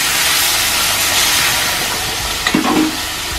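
Ground turmeric and coriander powder sizzle hard in a pan with a splash of water for a Bengali rohu fish curry, a steady loud broadband frying hiss with a brief stirring scrape near the end, no voices.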